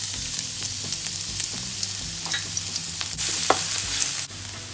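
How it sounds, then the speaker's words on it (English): Julienned ginger and garlic sizzle and crackle steadily in hot oil in a frying pan while being stirred, with occasional scraping and clinks from the pan, close up and without talk. "Heat the frying pan, add the oil,"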